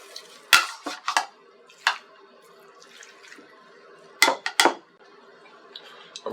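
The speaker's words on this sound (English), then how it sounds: "I'm going to use my potato masher, but we're not going to mash it up crazy like we're making mashed potatoes." Potatoes, corn and peas being lightly crushed with a potato masher in a pot, giving several sharp clanks and soft squelchy knocks in irregular bursts, close and fairly loud with quiet pauses between.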